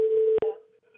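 A phone app call dropping out: a steady electronic tone holds, briefly cuts off, then returns fainter and fades into a weak trailing beep.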